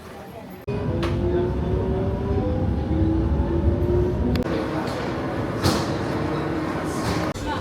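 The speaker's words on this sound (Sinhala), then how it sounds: "ගිහිල්ලා එතන තමයි ට්‍රේන් එක ගන්නෙ." A train runs toward Varese, Italy, with a steady loud rumble and a faint high whine throughout, opening with a sharp thud as the sound begins.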